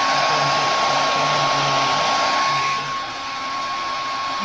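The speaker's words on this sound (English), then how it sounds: "hair dryer blowing against that temperature sensor" A hair dryer blows steadily against a temperature sensor during a test of a capstone project, a loud, continuous broadband whoosh with a faint whine, easing slightly partway through, with no talk.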